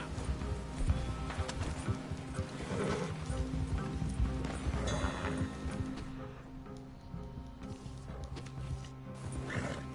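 Horse hooves clip-clopping in the western video game Red Dead Online, a loose, fairly close rhythm of hoof falls under steady game ambience, with a possible whinny, fading slightly toward the end.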